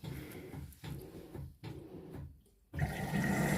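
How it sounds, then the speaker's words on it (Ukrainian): Water rushing and splashing into the drum of an LG F2V5GG9T washer-dryer in bursts, with brief pauses between gushes, steady and close by. "машинка набирає воду"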